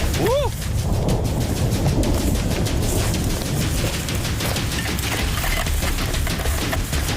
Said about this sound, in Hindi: वाह, तूफान आने वाला है।